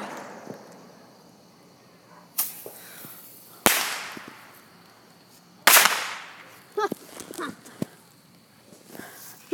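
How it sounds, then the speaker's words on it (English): Several sharp explosive bangs go off at irregular intervals, some with crackling tails, against a quiet outdoor background. "They're actually shooting off fireworks over there"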